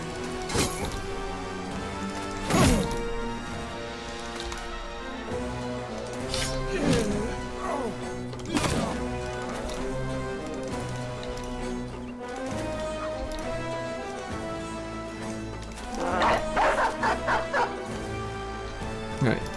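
Dogs in a gladiator-arena video game bark in sharp bursts, with yips and whimpers mixed among crashes and thwacks, all over a layered musical score and busy game noise.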